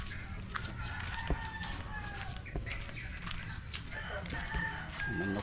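Chickens cluck and a rooster crows outdoors amid steady background noise, with a few sharp knocks and scattered farmyard calls.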